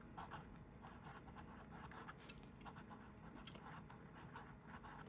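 A Parker Duofold Senior Lucky Curve fountain pen with a fine, non-flex nib writes across paper, giving a steady, close, continuous scratchy rustle with small strokes and lifts.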